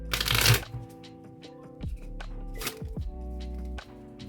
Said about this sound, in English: Now we tell them we start to shuffle the cards.